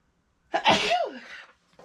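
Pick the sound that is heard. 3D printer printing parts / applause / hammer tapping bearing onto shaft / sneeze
sneeze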